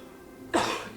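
One abrupt, close, loud human cough breaks a quiet background, followed by a brief raspy tail.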